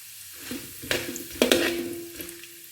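Raisins drop into hot ghee already holding mustard seeds, urad dal and chana dal, raising a few sharp sizzling bursts that crackle and fade over a couple of seconds.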